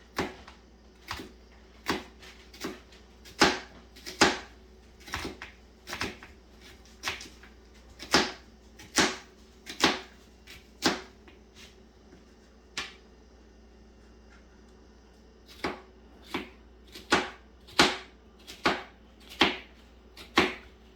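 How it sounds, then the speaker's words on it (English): A knife finely chopping a medium-sized onion on a board, about two dozen crisp, sharp taps in uneven bursts with a short pause midway, close and clear with no talking. "I've taken a medium-sized onion and I'm going to cut it fine."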